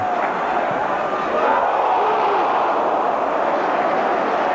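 Home supporters at a Dunfermline Athletic football match roar and cheer in a dense, sustained wash of crowd noise that swells slightly and holds loud throughout, heard from within the stadium.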